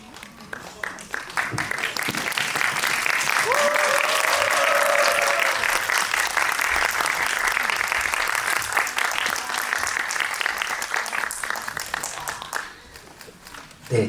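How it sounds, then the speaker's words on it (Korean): An audience at a Korean film screening and Q&A event claps to welcome the director and actors onto the stage. The applause swells into a dense, sustained roar, then thins out, and a voice speaks briefly over it. "입장하실 때 큰 박수로 환영해 주시면 감사하겠습니다"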